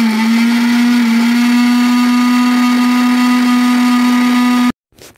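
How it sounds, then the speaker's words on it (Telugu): A mixer grinder runs loud and steady, blending a glass of oil in a mixie jar, a constant motor whine holding for several seconds before abruptly switching off, followed by a faint rattle. "మిక్సీ జార్లోకి వేసుకుని ఒక్కసారి మిక్సీ పట్టాలి."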